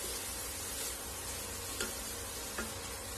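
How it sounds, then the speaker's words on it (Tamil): Grated carrot sautéing in ghee over a medium flame gives a constant dense hiss, close and even, with a couple of faint ticks from the spoon. "இதே இந்த நெய்ல ஒரு 5 நிமிஷம் நம்ம அப்படியே வதக்கிக்க போறோம், மீடியம் ஃபிளேம்ல வச்சு."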